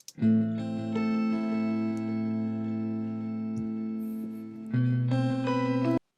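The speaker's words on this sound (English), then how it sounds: "And then I added a pitch shifter." Sustained electric guitar chords ring out with a bright, octave-up pitch-shifter shimmer layered on top, made in Logic Pro X, swelling and changing once near the end before cutting off.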